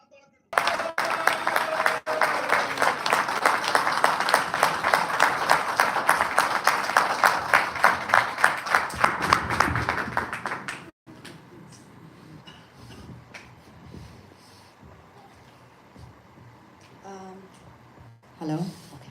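A crowd at a Pakistani Dutch Christian community gathering bursts into loud, sustained rhythmic clapping for about ten seconds, then it fades to scattered claps under murmuring voices and room noise.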